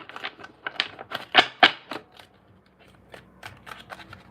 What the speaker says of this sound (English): I'm going to shuffle one more time because I just saw the same cards.